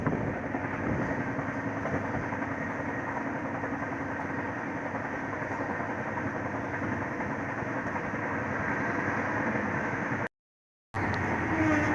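The ANVT–LJN Double Decker Express runs on rails in India, heard from inside as a steady loud rumble with rail clatter that continues almost without a break.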